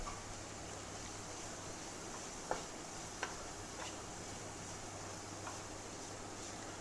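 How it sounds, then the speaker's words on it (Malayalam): Chopped green beans and grated carrot stir-fry in a pan, a faint, even sizzle with a few soft spatula clicks spaced across the stretch. "എല്ലാം കൂടി ഒന്ന് നന്നായിട്ടൊന്ന് ഇളക്കി ഒന്ന് മൂപ്പിച്ചൊക്കെ എടുക്കണം"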